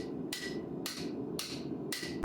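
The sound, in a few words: hammer forging Damascus steel knife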